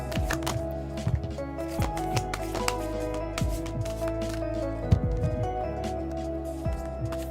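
A deck of cards being shuffled repeatedly at close range, with a dense run of crisp riffling flutters and soft taps throughout, no voice heard.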